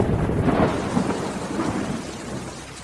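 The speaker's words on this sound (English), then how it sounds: "Not a good thunder." Deep thunder rumbles loud and continuous through the whole stretch, with a steady wash of rain underneath and no voices.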